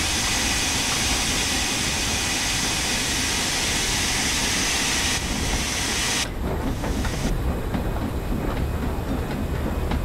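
A steam locomotive in Train Sim World pushing through snow, a loud continuous chuffing roar with hiss, the texture shifting partway through as the exhaust beats become more distinct.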